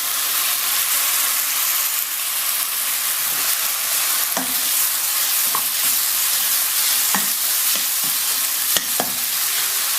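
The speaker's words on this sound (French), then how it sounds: "On peut y rajouter maintenant le bouillon. Notre bouillon de bœuf." Beef broth hits a sizzling mushroom sauce in the pan, producing a loud, continuous hiss of frying with a few sharp pops and light stirring taps.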